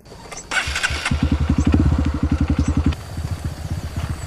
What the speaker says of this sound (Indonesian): Ezra mengajak Marta naik motor untuk mengambil tangga.